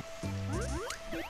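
Cartoonish watery squish and bubbly gurgle from Kirby swimming in the ocean level of Kirby Nightmare in Dream Land, a short burst with rising synthetic chirps.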